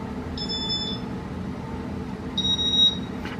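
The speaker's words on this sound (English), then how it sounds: "you listen for the beeps to get higher." A Casablanca Inteli-Touch ceiling fan control emits two clear electronic beep tones about two seconds apart, the second pitched higher than the first, over a low background hum.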